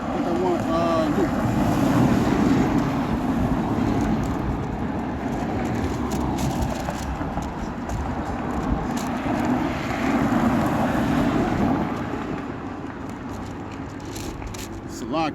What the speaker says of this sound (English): It's 80 degrees out here, man, but it's definitely windy.